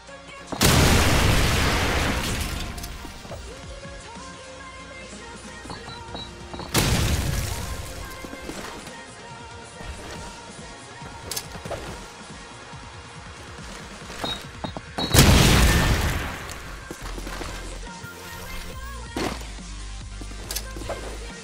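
Three heavy grenade blasts in Call of Duty 4 ProMod on the Backlot map boom out one after another, each a loud burst that fades into a rumbling tail, with smaller game noises between them.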